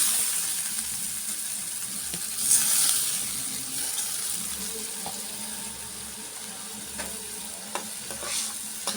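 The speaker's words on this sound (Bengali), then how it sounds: "মশলা চিংড়ি মাছ একসাথে কষে নেব" Prawns are fried with spice paste in a pan, producing a steady close sizzle with occasional scraping of a spatula as the mixture is stirred, without any talk.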